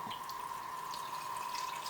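Watermelon juice poured over light brown sugar for an alcohol-free sangria, a steady faint trickling stream with soft dripping, close and alone for about two seconds.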